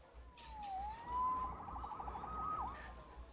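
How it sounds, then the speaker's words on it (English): A police siren in a Spider-Man video game wails faintly in rising and falling sweeps over a low background hum, with no talk. "Saved by the siren."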